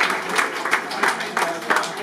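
A brief round of applause breaks out at a testimonial auction after a £1,600 sale, with scattered, rhythmic clapping from a modest crowd that swells and dips over a couple of seconds.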